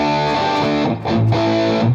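Electric guitar played through a ToneX amp tone with reverb and no channel strip plugin, sustained distorted chords ringing loud and continuous, with a brief change of chord midway.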